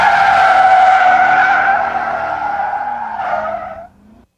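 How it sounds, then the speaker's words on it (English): Chevrolet Corvette C5 tires skidding through a 1G turn, a loud sustained squeal that holds steady for about four seconds before cutting off, heard alone with no talk. "we do not encourage anyone to take their vehicle into a 1G turn"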